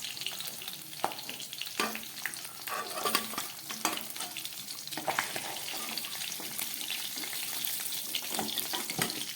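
Small tangra fish frying in hot oil in a pan, a steady sizzle with scattered crackles and pops throughout, moderately loud, with no talking.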